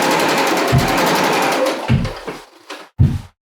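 Sewing machine running in steady rapid stitching while back stitching a seam on patchwork t-shirt curtains, then slowing into a few short separate bursts before stopping.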